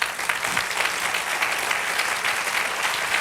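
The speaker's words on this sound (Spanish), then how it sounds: "Dale un aplauso al Señor." A church congregation claps for the Lord during a worship service, full and loud applause from a large crowd, dense and sustained throughout with no voices rising above it.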